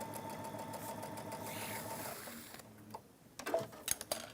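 A sewing machine stitching a leather-handled handbag runs with a steady, close mechanical whir for over two seconds, then stops, leaving a few scattered clicks and handling knocks.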